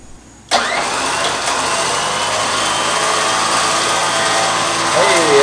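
A Badland Apex 12000 winch motor starts abruptly and runs with a loud, steady electric whine and ratcheting gear noise for about five seconds, rising slightly near the end.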